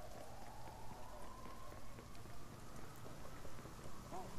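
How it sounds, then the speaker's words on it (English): Rain falls in the open-world game Watch Dogs 2, a steady, soft patter and hiss that carries evenly through the whole stretch, with no voices over it. "Oh, it's raining."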